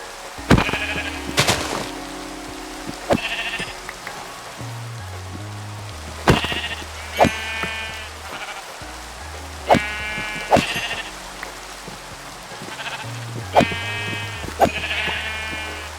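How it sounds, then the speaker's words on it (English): Sheep in Minecraft bleat repeatedly, each short nasal baa spaced a few seconds apart over a steady low game background hum, close and clear with no talking. "Like there's some sheep."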